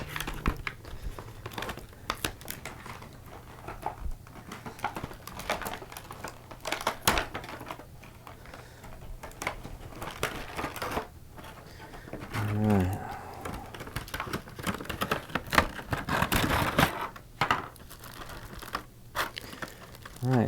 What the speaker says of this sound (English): And it comes in this very simple pack that is taped. We will untape it.